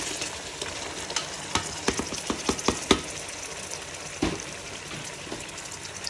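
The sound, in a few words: chicken frying and being stirred with tomatoes in pan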